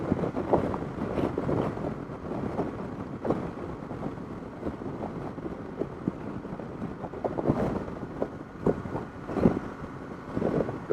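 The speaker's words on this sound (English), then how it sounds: "Seems to be a little bit more sheltered from the wind here, so it's not quite as bad. It's still pretty blustery though." Strong Patagonian wind buffets the microphone in a steady, roaring rush with gusty surges, heard on its own without voices.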